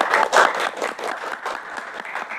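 Students and guests at a school talk show in Indonesia applaud. The clapping is loud at first, then thins into scattered claps, with faint cheering mixed in.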